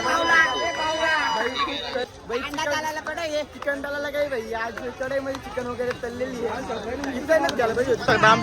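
Dense crowd chatter at the crowded Mhasa fair on a Sunday, many overlapping voices and babble close by, with a nearer voice talking over the busy hubbub.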